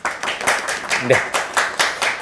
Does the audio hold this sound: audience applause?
yes